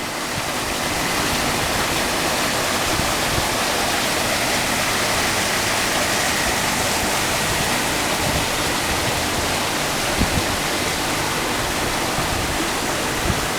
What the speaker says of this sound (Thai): ก็มีน้ำตกที่สวยงามอยู่นะ